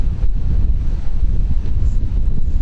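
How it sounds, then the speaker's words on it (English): Steady, loud wind buffeting the microphone outdoors, a continuous low rumble with possible surf beneath, no voices. "it was a very windy day. You can hear all that noise."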